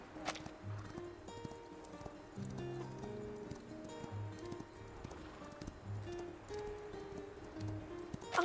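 Horse hooves clip-clop at a steady walking pace in the video game Reverse 1999, repeating beneath game music with soft tonal layers.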